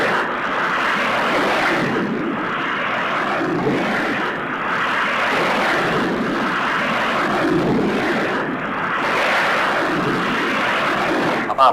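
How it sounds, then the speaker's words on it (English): Navy aircraft launch from an aircraft carrier during Vietnam War air operations, a loud, sustained engine roar that swells and dips slightly but never lets up. "planes are being sent aloft at"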